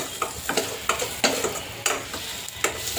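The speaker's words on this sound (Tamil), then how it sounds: "இப்போ பாருங்கள் எப்படி வதங்கிட்டுருக்கு" Ingredients for spicy Yippee noodles sauté over a low flame, with rhythmic spatula strokes scraping the pan about twice a second over a constant gentle sizzle, close and clear.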